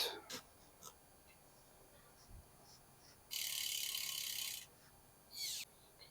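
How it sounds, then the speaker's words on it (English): A bicycle rear wheel fitted into the frame dropouts of a Velo Orange Rando, with a few light clicks followed by a long hub ratchet buzz and a second short freewheel whir. "Rear wheel going in."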